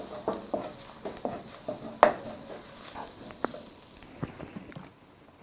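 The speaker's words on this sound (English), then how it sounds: "We need to add in now the tomato paste. The paste also needs to cook a little bit." Tomato paste cooks in a pot with a soft continuous sizzle, broken by scattered scrapes and taps of a spoon stirring against the pot.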